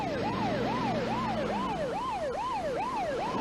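Ambulance siren wailing in a fast repeating rise-and-fall yelp, steady and fairly loud, with a low road rumble beneath.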